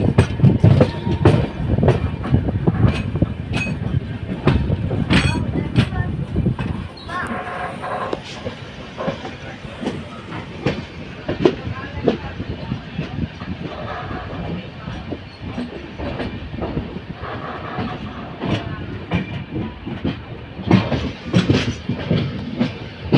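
A Padatik Express passenger train runs on rails between New Jalpaiguri and New Alipurduar, with a steady rumbling roll and repeated clickety-clack wheel beats close by, louder at first and continuing throughout.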